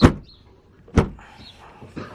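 A car trunk is slammed shut twice, each a sharp, loud thud with a brief rattle, about a second apart, followed by a softer knock and faint handling noise, no talking.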